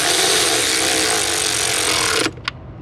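A power tool whirs steadily to tighten bolts on the EGR cooler of a 6.7 Cummins, a loud close buzz that stops abruptly and is followed by a short click.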